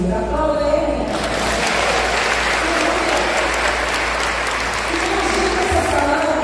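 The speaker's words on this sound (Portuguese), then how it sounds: "Aplauda Ele." A church congregation at a local missions conference claps together, a broad sustained roar of applause that swells in after the first second and holds steady and loud, with faint background tones underneath.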